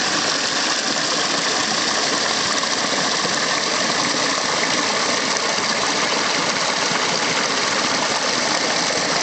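A homemade micro hydro generator fitted with a small bicycle derailleur gear runs with a loud, steady whir and a rushing, water-like roar that does not let up.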